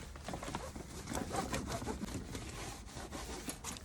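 Dry cloth rubbing steadily over the dusty bodywork of a dirt bike left sitting for six years, a continuous close scrubbing swish with no talk.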